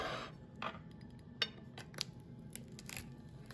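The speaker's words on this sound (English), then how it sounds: "Now what I'm gonna use is a pizza cutter." A pizza cutter rolls through a fruit-topped Dutch baby pancake, making faint, scattered clicks and soft scraping strokes against the pan, quiet and close with no speech.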